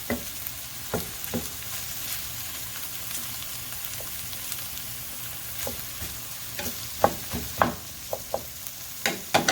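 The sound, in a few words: mushrooms and beef browning in a pan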